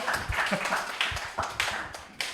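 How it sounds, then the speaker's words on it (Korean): Church youth congregation clapping briefly, a short burst of scattered hand claps at close range in a room. "박수 한번 주시죠"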